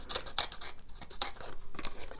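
A pair of scissors snips through a sheet during table tennis rubber and glue preparation, a series of sharp crisp cuts at uneven intervals, close and clear with no voices.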